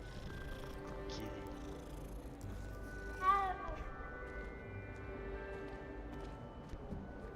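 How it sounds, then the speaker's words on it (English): A cat in the Hogwarts Legacy game gives a single soft meow midway, faint beneath steady game music and ambient sound. "Oh, it's a kitty."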